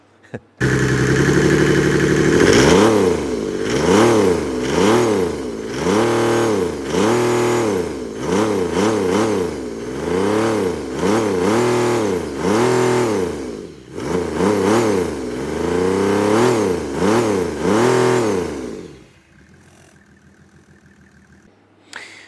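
A Mercedes OM606 diesel engine with a cast aluminium intake manifold, lid off, revs repeatedly, rising and falling in quick throaty surges with an open, roaring intake sound, then drops to a low idle near the end.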